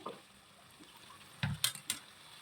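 Tomato and onion are stirred in a pan for a curry, with faint frying in the background and then a few distinct scraping clinks of a utensil against the pan near the end.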